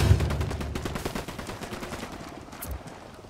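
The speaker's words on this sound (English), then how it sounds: "I'm opening fire on these shitheads." Rapid automatic gunfire rattles in a dense volley in Ghost Recon Wildlands, loud and close at first and then thinning into scattered shots over about three seconds.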